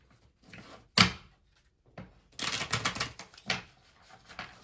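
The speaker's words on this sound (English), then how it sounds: "I gotta give these a good shuffle, y'all, because they're not that many" Tarot cards being shuffled: bursts of papery riffling and clacking cards, loud and close, with a sharp tap early on and quieter handling between.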